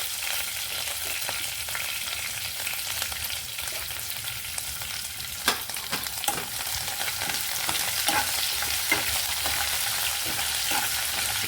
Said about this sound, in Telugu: తిరగమూత బాగా వేగాలండి. కొంచెం కరివేపాకు,